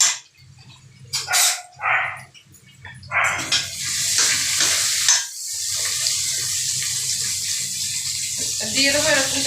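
Two spoons of garlic paste go into onions already fried red in a pan for mutton kosha, bringing a loud, steady, close sizzle that builds and keeps going, after a few short, rough bursts at the start.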